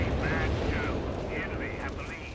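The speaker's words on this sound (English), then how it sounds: "here comes the artillery" Artillery barrage in Company of Heroes 3 rumbling as a continuous dense roar of distant explosions and gunfire, steady and loud throughout, with a voice talking over it.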